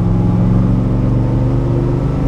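A 1972 De Tomaso Pantera with a 5.8 l V8 under hard throttle, a loud, continuous low engine drone with strong harmonics, heard from inside the car with no talk.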